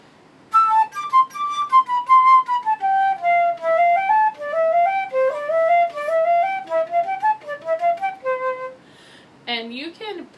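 A flute plays a technical étude passage from the 2024-2025 GMEA All-State middle school audition, a clear solo line of flowing, shaped note groupings that rise and fall, close and loud, ending with a few quick breathy notes.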